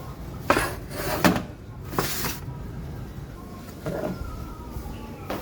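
Metal baking trays are loaded into a deck oven at a food stall, with several sharp clanks and scrapes as each tray slides in one after another, moderately close over low background noise.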